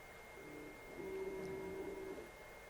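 A Longer LK4 X 3D printer lays down a purge strip, its stepper motors giving a steady whine with a sustained tone that swells in the middle, moderately quiet and close, with no talking.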